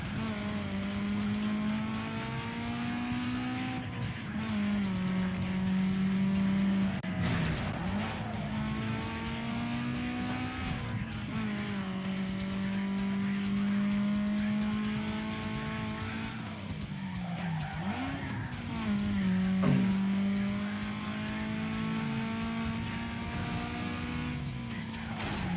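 Racing cars in Need for Speed Underground 2 on PS2 during a point-to-point sprint race, a steady engine drone with rising and falling revs as the car shifts gears, and several tire squeals and skids through corners.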